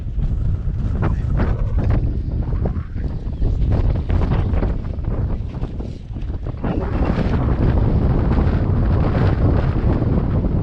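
Strong wind blowing outdoors at the Golden Circle in Iceland, a loud steady buffeting roar against the microphone that continues for the whole stretch, with no clear talk over it.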